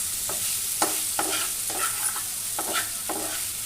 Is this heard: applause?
no